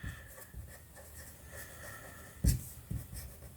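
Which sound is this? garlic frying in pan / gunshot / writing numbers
writing numbers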